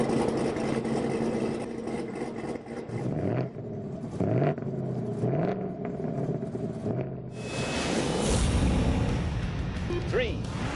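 Car engine in The Grand Tour Game, rumbling at idle with a few rising revs and a louder surge near the end, heard under steady voices talking over it.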